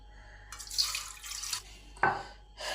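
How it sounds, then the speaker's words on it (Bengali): Chana dal (split chickpeas) washed by hand under a running kitchen tap, with bursts of splashing and rushing water in a sink, one sharp slosh midway, fairly close and without talk. "প্রথমে ছোলার ডালটাকে ভালো করে পরিষ্কার করে ধুয়ে ফেলি।"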